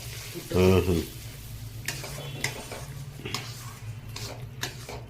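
Kolkata-style frying in a pan as sugar is stirred in, a soft sizzle with clinks and scrapes of a spatula against the pan, a brief voice near the start and light stirring taps after.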